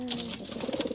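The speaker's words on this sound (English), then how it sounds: "Wow, pigeons." Pigeons cooing in a backyard during winter, a steady layered murmur of soft low coos from several birds close by, with faint brighter chirps mixed in throughout.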